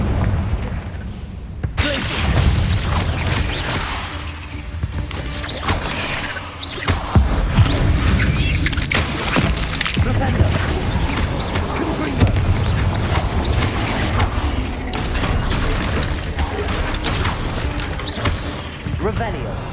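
Confringo fire spell blasts in Hogwarts Legacy, a string of booming bursts and crashes going off one after another over a busy game soundscape, loud and close, with a voice talking throughout.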